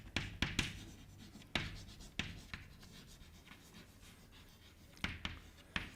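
A lecturer writes on a board during a classical mechanics lecture, making faint, sharp taps and short scratching strokes in an irregular rhythm, quiet and close with no talk.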